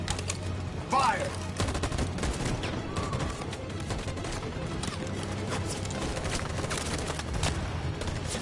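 A firing squad volley in the video game Detroit: Become Human: a sharp burst of gunfire near the start, followed by a rumbling, tense backdrop with voices.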